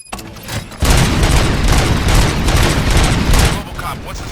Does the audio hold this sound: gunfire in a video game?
yes